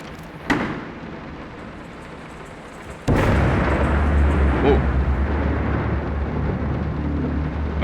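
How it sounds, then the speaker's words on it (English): Thunder in the horror game Layers of Fear: a sharp distant crack, then after a pause a loud, sustained low rumble that rolls on to the end with no voices over it. "Okay, thunder."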